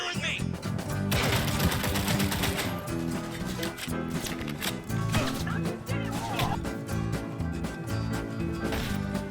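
Dense gunfire in the video game Cyberpunk 2077 during a fight at the docks, rapid shots layered over game music and effects, fairly loud and continuous, with brief shouting at moments.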